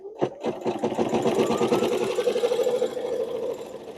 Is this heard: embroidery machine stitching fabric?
yes